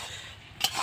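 Puimichuri is stirred and mixed in a pan, with a soft, continuous scraping that ends in a sharp spoon-against-pan clink near the end.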